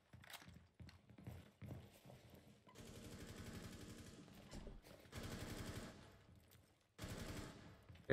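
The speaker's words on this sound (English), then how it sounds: "I hear the gunfire" Bursts of rapid automatic gunfire in the video game Rainbow Six crackle in several clusters, broken by short gaps and mechanical clicks, fairly quiet and distant.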